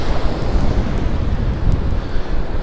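Heavy ocean swell rolls onto an island beach, a steady loud wash of surf mixed with gusty wind buffeting the microphone, continuous without pauses.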